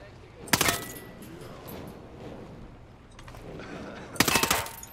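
Two sharp, loud bursts of automatic gunfire from a weapon in the video game Ghost Recon Breakpoint, about four seconds apart, with a quiet stretch between them.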